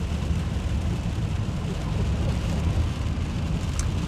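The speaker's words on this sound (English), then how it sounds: "it's been raining non-stop since we left Pocatello" Steady rain heard from inside a car on a rugged canyon road in Idaho, a dense, even hiss mixed with low road and engine rumble that continues without a break.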